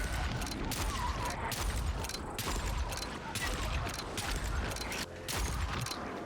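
Revolver shots ring out in the first-person zombie game Dying Light, a rapid series of loud bangs with mechanical clicks and reloading rattles over a dense, noisy game soundscape.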